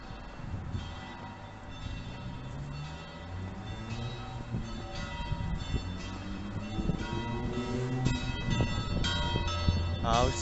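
Church bells of the Church of St. Lawrence in Sobrance ring out over a busy outdoor street scene, their tones steady beneath traffic and passing noise, with voices talking throughout.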